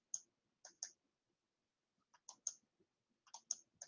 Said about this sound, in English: type this code here